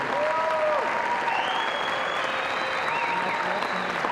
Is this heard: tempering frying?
no